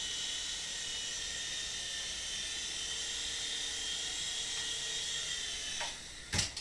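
An Audely Storm Eagle RC helicopter flies indoors, its small rotor and motor giving a steady, high-pitched whine that holds level, then dips near the end before a couple of brief knocks.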